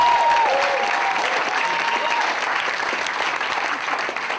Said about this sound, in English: give a big round of applause for Mark Norman